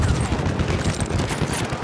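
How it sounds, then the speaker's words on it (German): Dense machine gun fusillade in the video game Battlefield 1, loud continuous rapid bursts with sharp cracks filling the whole clip. "Ein Maschinengewehr!"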